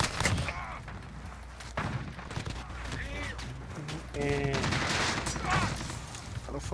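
Rapid bursts of machine gun fire in a Modern Warfare gun game match, sharp repeated cracks clustered in volleys amid other combat noise, with a voice talking over parts of it.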